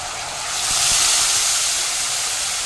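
Fried potatoes and tomato in a pan give off a loud, steady hiss that swells after the first half second and holds without pause. No one speaks.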